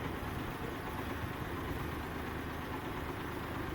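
A boat's inboard engine idling steadily while motoring between Sidney and Port Townsend, a constant low rumble with no talk over it.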